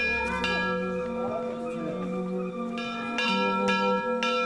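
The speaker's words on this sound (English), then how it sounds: "traditions such as ringing a bell to alert the deities to your arrival are allowed to continue" A bell rung at a Tibetan monastery in Shigatse, its struck tones ringing out repeatedly with long sustained overtones that overlap and decay, loud and close.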